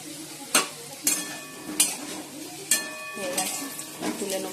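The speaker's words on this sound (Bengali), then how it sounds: "আর এদিকে আলুগুলো ভাজছি" Potatoes fry in a pan with a soft sizzle, punctuated by several sharp clinks and scrapes of a utensil stirring against the metal, close up and fairly quiet, with a faint voice in the background.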